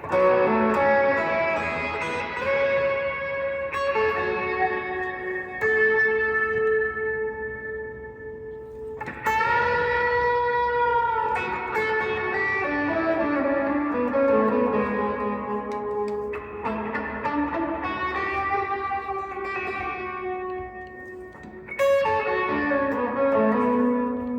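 Electric guitar, a PRS Hollowbody II through a pedalboard on a wet reverb setting, playing sustained chords and melodic lines drenched in lush reverb and delay that makes notes ring and blur into one another, continuous and fairly loud.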